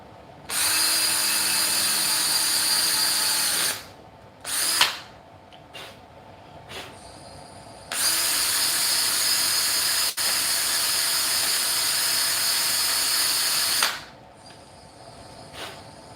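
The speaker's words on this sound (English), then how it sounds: "now I'm gonna drill another hole" Power drill boring a hole while upgrading a 26-inch e-bike: two long, loud, steady high-pitched whines, each lasting several seconds, separated by short bursts and quiet handling noises.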